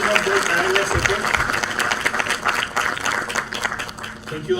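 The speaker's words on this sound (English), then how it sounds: "A big round of applause for Professor Hardik and his team" A dense round of applause for a professor and his team at an international academic event, with crowd clapping blended under music and voices throughout.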